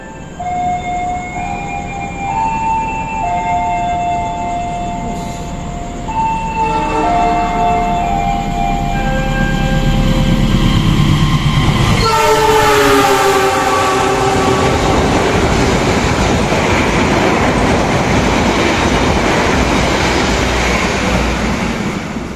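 A loud passenger train on an Indonesian railway rumbles past close by while its horn blares in long, layered tones partway through, the roar continuing after the horn stops.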